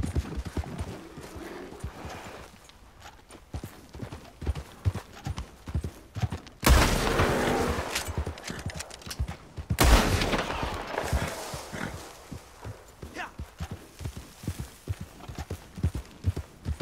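Horse hooves clip-clop in a steady rhythm while riding in Red Dead Online, close and continuous, with two loud sudden bursts like gunfire or a crash breaking in partway through.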